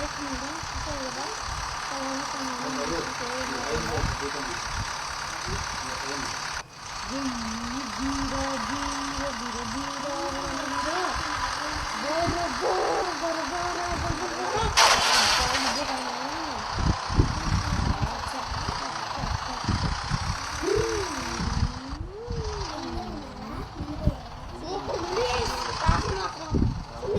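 An in-game tractor engine in the mobile game Indian Bikes Driving 3D keeps up a steady, moderate idling hum with some knocking texture. A person talks continuously over it.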